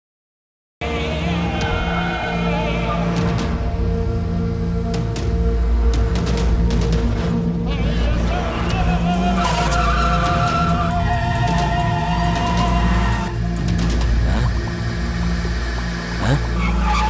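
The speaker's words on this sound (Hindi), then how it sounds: "मुकेश, ये गाड़ी हमें फॉलो क्यों कर रही है?" During a movie car chase, engines race and tires squeal and skid through a long, dense stretch, with a dramatic music score running loudly beneath the vehicle noise.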